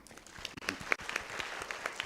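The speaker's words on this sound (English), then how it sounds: "So can we give a good round of applause to all our fathers, please?" Brief, fairly faint applause from a live talk audience honouring fathers, scattered individual claps rising and thinning out over a couple of seconds.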